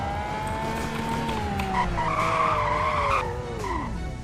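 Tires on a car in the Roblox Greenville game squeal in a long skid under hard braking from 100, a sustained screech gliding downward in pitch over a steady engine drone before fading out.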